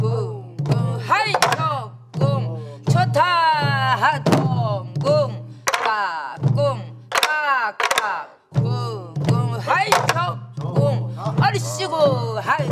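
A Korean buk barrel drum is beaten in a pansori jangdan rhythm with sharp wooden knocks and deep thumps, while a voice chants rhythmic syllables that imitate the drum strokes.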